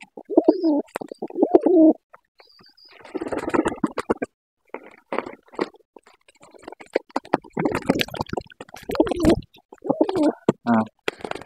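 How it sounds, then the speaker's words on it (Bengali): Pigeons being fed coo in soft, repeated throaty bursts close by, interspersed with wing flutters and scuffling, sometimes overlapping in clusters with short gaps of quiet between them. "কবুতরের খাবার দিলে কবুতরগুলো এক জায়গায় হয়"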